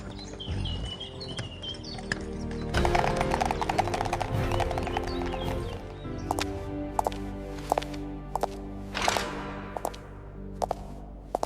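Horse hooves of a carriage clip-clop in a steady walking rhythm, sharp distinct knocks close by over a soft background with occasional bird chirps.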